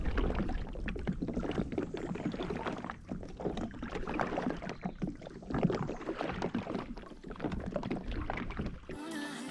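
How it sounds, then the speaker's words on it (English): Paddles splash and knock as a boat, its engine tilted up, is paddled through shallow winding channels, a steady rhythm of close watery strokes and dull thumps against light wind. "we tilted up our engine and spent hours paddling through the winding channels"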